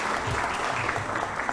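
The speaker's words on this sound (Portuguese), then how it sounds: "senhoras e senhores, aplausos, por gentileza" Audience at a debate panel session claps continuously, a dense, even burst of applause from a seated crowd filling the room.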